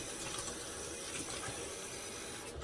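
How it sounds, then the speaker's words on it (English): Hot water runs steadily from a bathroom tap into a plugged sink basin for rinsing, a continuous close hiss and splash that stays even throughout with no talk. "Turn on some hot water for rinsing."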